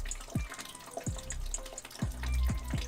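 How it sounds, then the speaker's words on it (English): Mead dripping as it is racked from one vessel to another, a run of distinct low plinking drops falling at an uneven pace, close and fairly quiet over a faint background hiss. "Do we like the ASMR dripping?"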